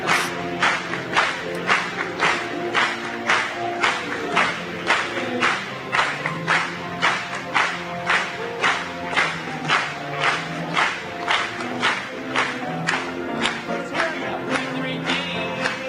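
A church congregation at a Portuguese-language gathering claps hands in a steady, even rhythm, many claps close together for the whole stretch, loud and unbroken with a faint murmur of voices underneath.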